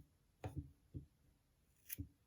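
Scissors snipping off small bits of twig from a twig weaving, a few quiet close crisp snips, two close together, then one, then a final pair, with near silence between them.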